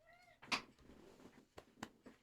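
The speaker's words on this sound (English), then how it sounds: "I've got a cat in my lap now" A cat gives a short, clear meow up close, followed by a few soft rustles and light bumps, with no talking.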